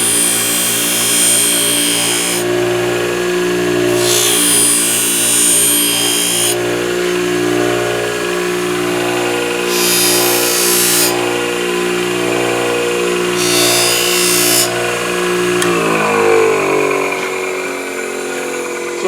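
A handmade knife blade is pressed against a motor-driven buffing wheel, giving a steady mechanical hum with bursts of higher hiss as the blade contacts the wheel, before the motor winds down near the end.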